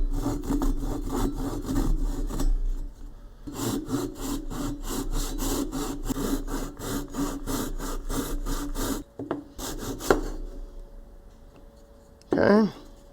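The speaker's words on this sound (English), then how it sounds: "So we'll cut here first, and then we'll cut right at the joint." A hand saw cuts through wood while a wooden fidget toy is being carved, close and loud, with steady rapid back-and-forth strokes in two long runs, a short burst after a pause, and a brief voice near the end.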